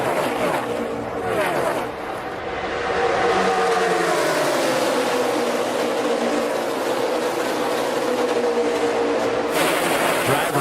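NASCAR stock cars race nose to tail, two and three wide, through the tri-oval at Talladega during the 2015 CampingWorld.com 500. A pack of engines gives a loud, sustained roar that shifts in pitch as the cars pass, with commentary voices mixed in.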